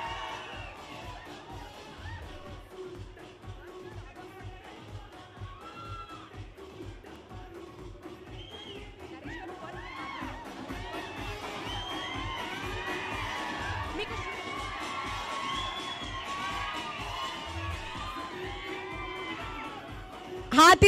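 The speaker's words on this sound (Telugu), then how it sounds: "with a huge round of applause ladies and gentlemen, Gopichand గారికి స్వాగతం పలకవలసిందిగా కోరుత" A large crowd of fans at a film trailer launch event cheers, whoops and shouts continuously, swelling louder in the second half, with a rhythmic pulsing beat underneath.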